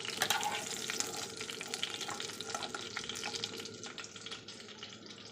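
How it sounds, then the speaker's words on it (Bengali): Eggplant pieces fry lightly in a pan without salt or turmeric, a continuous crackling sizzle with scattered pops that gradually settles and softens. "বেগুনগুলো দিয়ে দিয়েছি লবণ হলুদ ছাড়াই হালকা করে ভেজে নেব।"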